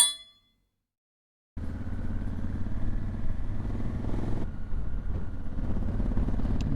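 A motorcycle rides along a road at Newlands Corner in Surrey, on tyres fitted less than a month ago. After a short silence the engine comes in as a steady, loud, near drone with a rough low rumble and no talk.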